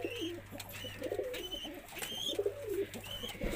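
Indian fantail pigeons cooing close by, soft repeated rolling coos in short phrases with faint chirps, no talking.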